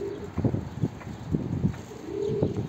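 A pigeon coos in low, soft repeated calls, close by, over a faint steady background hum.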